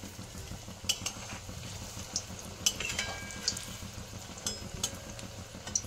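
Raw banana kofta balls frying in oil in a pan: a quiet, steady bubbling sizzle with scattered light clicks and pops throughout.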